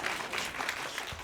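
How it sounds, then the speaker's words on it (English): Audience applause at a live magic show: a dense, steady patter of many hands clapping, moderately distant, filling the whole brief moment without speech. "Give him a round of applause for his honesty."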